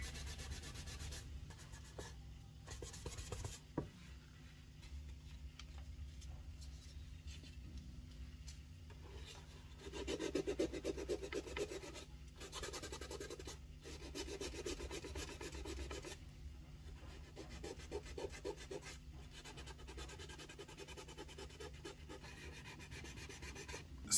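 Steady rubbing and rasping as thick varnish is feathered down by hand on a 1934 A.E. Smith violin, a close, continuous scraping that grows slightly louder midway, with no talking.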